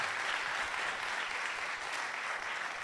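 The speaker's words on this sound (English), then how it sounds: "Please give them all another round of applause." An audience claps steadily for a group of presenters, with dense, sustained applause that fills the room without any speech.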